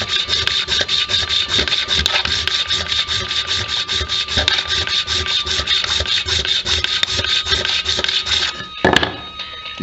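Steel card scraper pushed back and forth on a water stone for sharpening, a steady, close, rhythmic rasping scrape repeating throughout, with a brief pause near the end.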